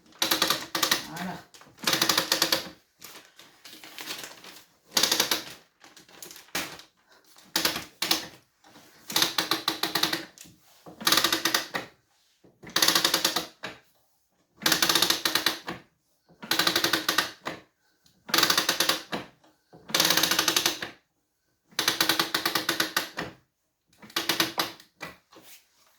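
Ratchet clicking on a weaving loom with a rigid heddle as the winding knob is turned, arriving in about a dozen short bursts of rapid mechanical clicks separated by silent pauses, close and fairly quiet.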